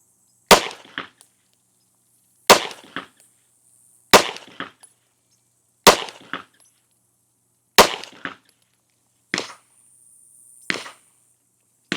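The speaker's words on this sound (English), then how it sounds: "I am about to shoot the TP9 SF Elite with the red dot" Five sharp pistol shots ring out from a TP9 SF Elite fitted with a red dot, spaced about two seconds apart, each a loud close crack with a short ringing tail. A sixth, fainter click-like report follows near the end.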